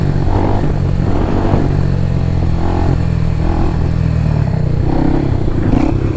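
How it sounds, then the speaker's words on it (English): On a supermoto motorcycle, the throttle is chopped repeatedly and the engine revs drop in a series of pulses, with loud, close engine noise that rises and falls and no talking. "you can slow the bike down just with using the throttle and chopping it"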